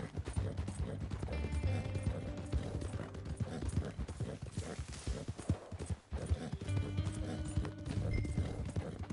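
Hoofbeats of a horse in the Western video game Red Dead Redemption 2 clop steadily and close, with a whinny and game ambience woven through, loud and continuous with a brief dip near the middle.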